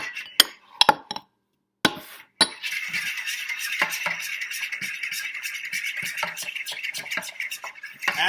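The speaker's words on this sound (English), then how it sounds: "And mix that all together." An egg and liquid ingredients for pancake batter are whisked in a bowl, with a few sharp clinks against the side, a brief pause, then steady rapid stirring and tapping that continues to the end.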